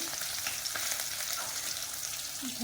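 Fish pieces frying in a pan give a steady, close hiss and crackle of hot oil that runs without a break, with light stirring or turning sounds and no talk.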